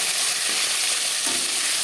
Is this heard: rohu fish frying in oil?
yes